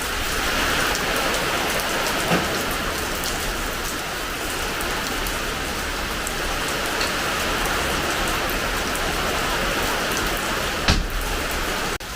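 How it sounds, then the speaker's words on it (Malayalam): Steady light rain patters on surfaces, an even hiss with a few distinct drops, no voices. "മഴ വരുന്നുണ്ട്, ചെറിയ ചാറ്റമഴയേ ഉള്ളൂ"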